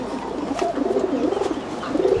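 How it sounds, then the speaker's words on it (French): Pigeons coo softly and continuously nearby in a Saudi Arabian desert town, their low murmuring calls rolling over a steady outdoor background. "les pigeons."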